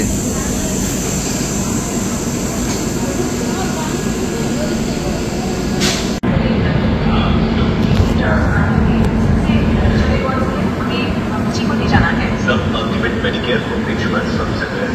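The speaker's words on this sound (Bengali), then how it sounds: "ট্রেন এখন জাজপুর কেওনঝাড় রোড থেকে ছাড়লো" The 12277 Puri Shatabdi Express pulls out of Jajpur Keonjhar Road station with a loud, continuous rail rumble and wheel noise that grows fuller partway through, with voices mixed in.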